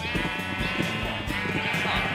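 Sheep in the Minecraft video game bleat repeatedly over steady background music, the calls fairly loud and overlapping in a continuous stream.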